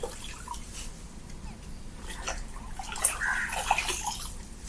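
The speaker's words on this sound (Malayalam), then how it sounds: "അപ്പോൾ നമ്മളിങ്ങനെ വെള്ളത്തിൽ ഇത് ഫസ്റ്റ് ടൈം ഒറ്റ പ്രാവശ്യം കഴുകുന്നതിനാണ് കുറച്ച് കഴുകിയിട്ടുള്ളൂ." Neem leaves are washed by hand in water, producing soft splashing and dripping that grows busier toward the end, with faint talk nearby.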